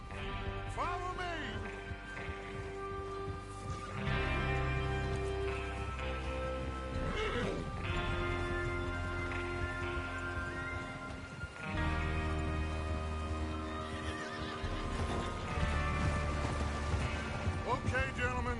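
Horses in the game Red Dead Redemption 2 whinny and snort repeatedly while hooves clop around them, layered with tonal game music and voices talking throughout, moderately loud and close.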